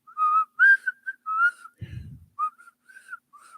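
A lone person whistling a short tune at close range, bright wavering notes in brief phrases, briefly interrupted by a soft low rustle before the whistling resumes and trails off more faintly.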